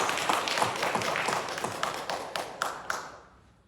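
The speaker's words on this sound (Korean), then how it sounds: "우리 박수로 축복합니다." A church congregation claps during a Sunday worship service, a burst of dense applause with a few sharp individual claps standing out near the end as it thins and fades away.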